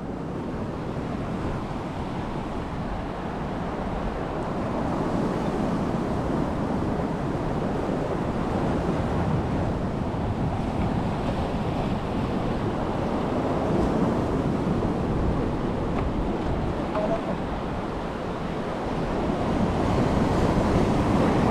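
Ocean waves break and wash steadily onto shore, a continuous roar of surf mixed with wind buffeting the microphone.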